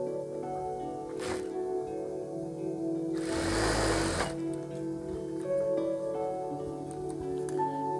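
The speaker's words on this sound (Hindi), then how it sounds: "तो अभी मैं इसको यहाँ पे एक सिलाई लगा लेता हूँ।" A sewing machine stitching a ladies jacket, a short buzzing run of rapid stitching, quiet and close, set against faint background hum.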